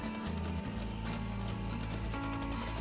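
An electric mixer whirs on low speed through cake batter for an Italian coffee cake, giving a steady motor hum with a faint rhythmic ticking from the beaters, close and continuous.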